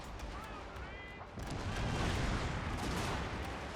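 Artillery battery firing in the Fall of the Samurai strategy game, a rolling series of booming shots at moderate distance that thickens into dense, continuous battle noise after the first second, with a voice talking over it.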